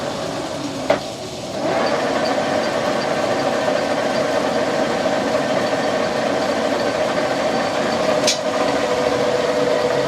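A small metal lathe runs steadily with a continuous mechanical hum and whine, starting up after a brief quieter moment, with a faint click near the start and another later.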